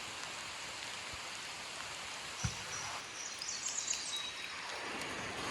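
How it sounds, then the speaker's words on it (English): Light rain patters steadily at a riverside camp along the Housatonic River, with a constant close hiss of drops, a couple of sharp nearby knocks, and faint bird calls briefly above it. "Even with this light rain, it's not too bad."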